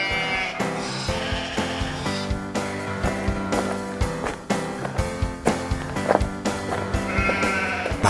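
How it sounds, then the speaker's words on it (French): Sheep bleat over rhythmic music, their short wavering cries repeating at a moderate distance. "Ils rassemblent leurs moutons"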